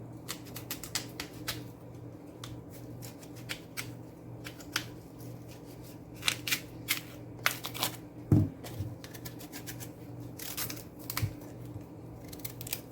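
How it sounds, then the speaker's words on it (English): A knife peels cassava in a kitchen in the Bahamas, making crisp scraping and snapping strokes that come in quick irregular bursts, close and fairly quiet over a steady low hum. "Easy way of peeling cassava."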